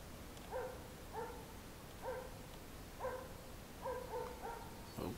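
A loose dog barks in a video game, five or six short paired barks at a moderate distance, evenly spaced over a quiet ambient background.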